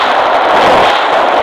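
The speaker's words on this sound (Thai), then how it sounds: "ระเบิด" Explosion in the video game Solar Smash: a loud, steady broadband roar of a blast rumbling without break for the whole moment, with no speech over it.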